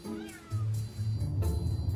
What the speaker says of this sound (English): There's a cat. I hear a cat.